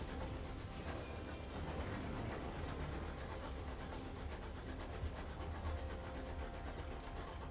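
Steam train locomotive in the video game Sunless Skies, with a continuous rumbling chug and a rhythmic chuffing pulse, steady and fairly close.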